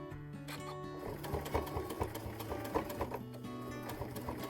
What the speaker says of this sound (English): So just stitch it on quite slowly and carefully, just guiding it in as you go.